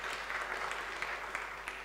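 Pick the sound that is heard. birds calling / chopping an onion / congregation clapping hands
congregation clapping hands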